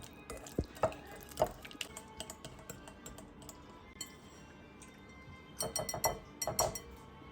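Cheese and fresh cream are mixed by hand in a bowl, giving faint, irregular clinks and scrapes. A louder cluster of clatters comes toward the end.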